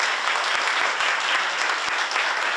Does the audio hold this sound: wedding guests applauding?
yes